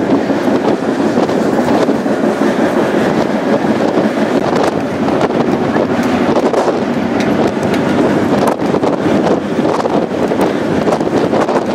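A steady, loud rumbling roar like a train rolling by close, with wind buffeting the microphone throughout.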